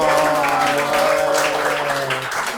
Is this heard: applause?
yes